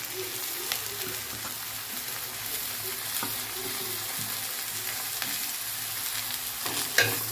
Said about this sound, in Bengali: এবার এর মধ্যে দিয়ে দেবো কুচানো ক্যাপসিকামগুলো।